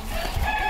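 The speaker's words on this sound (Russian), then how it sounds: "Вот здесь у нас бройлеры" Broiler chickens on a farm cluck and chatter in a dense, continuous flock murmur, close and fairly loud, with no voices over it.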